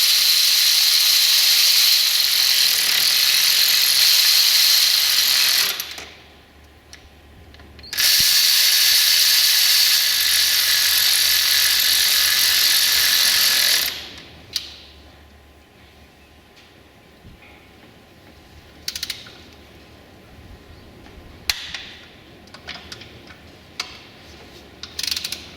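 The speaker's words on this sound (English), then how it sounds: "I'm going to bottom them out with this and then torque them" A power tool whirs in two long loud bursts while running bolts down on a Ford Crown Victoria during a coolant flush, then a hand ratchet and wrench click and tick in short sparse bursts as the bolts are torqued.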